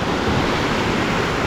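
A storm-swollen stream after Storm Erin rushes almost like a river, a loud, dense, steady roar of churning water filling the whole moment without a break.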